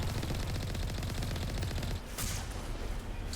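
A vehicle's big cannon fires in Mass Effect Legendary Edition during a thresher maw fight, a loud, rapid volley of close repeating blasts for about two seconds, then a brief pause and a single sharp burst.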